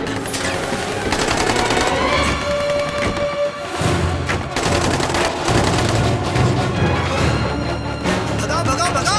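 Machine gun fire in a Hindi-dubbed action movie, loud dense bursts of rapid shots with heavy thuds and booms, set against a busy, loud soundtrack.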